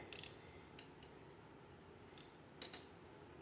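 A hand ratchet snugs up thin bolts on a 1978 Honda Express NC50 moped. A few faint, sparse clicks sound over a quiet garage background.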